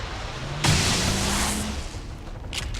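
A sharp, loud gunshot burst in XCOM 2, one heavy blast with a ringing tail that slowly decays, followed by a softer crack near the end.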